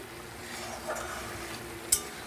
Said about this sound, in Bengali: এবার ভালো করে এটা একটু কষিয়ে তারপরে দিয়ে দেব আলু ডিম একসঙ্গে কষিয়ে